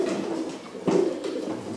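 Soft, low pigeon cooing from a red racing pigeon in a breeding loft, a few gentle murmuring coos over about two seconds, close and quiet.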